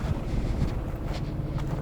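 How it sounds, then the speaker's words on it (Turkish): Steady wind buffets the microphone with a low, rumbling roar throughout the brief moment, outdoors in a farm field. "Yine güzel bir rüzgar var."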